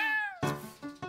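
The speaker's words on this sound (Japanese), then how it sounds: "猫。" Cat meowing in an anime scene, a drawn-out falling meow followed by a few shorter, harsher mews, close and clear with no talking over it.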